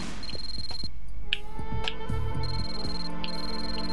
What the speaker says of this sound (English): my cell phone's ringing.